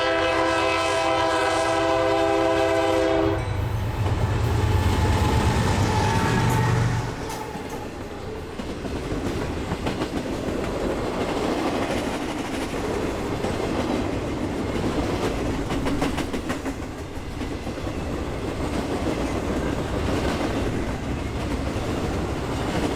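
A BNSF freight train hauling empty garbage containers sounds a loud, sustained multi-tone horn before rolling by with a long, steady rumble and rhythmic clatter of cars on the tracks beside Titlow Beach.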